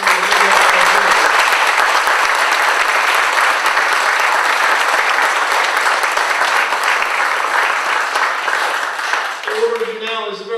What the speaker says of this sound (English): So round of applause for my fundraising.